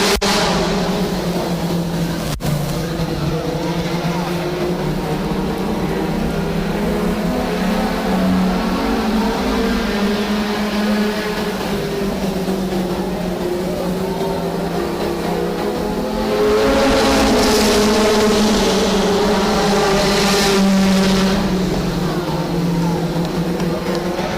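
Race cars running side by side out of turn four at Redwood Acres Raceway, a loud continuous roar of engines with shifting pitch that swells as the cars pass close by.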